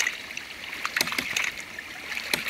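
A water ram pump fed from a pond: water runs and gurgles steadily while the pump's valve clicks and knocks sharply several times, with two clear snaps near the middle and another near the end.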